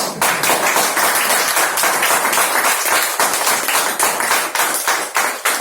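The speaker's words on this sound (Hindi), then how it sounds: "रिजवान भाई के लिए तालियां बजा दो" An audience at a business seminar gives loud, dense applause, many hands clapping rapidly and continuously at close range with no pause.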